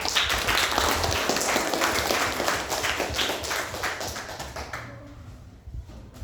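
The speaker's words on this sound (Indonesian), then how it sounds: "berikan tepuk tangan untuk" A classroom of students applauds during a school lesson, steady rapid clapping that holds strong and then quickly dies away near the end.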